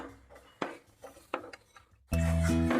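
A spoon stirs fried vermicelli (semiya) in a pot of boiling liquid, clinking and scraping in several distinct knocks. A loud, steady bubbling or tonal hum then takes over near the end.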